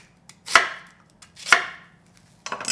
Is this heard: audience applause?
no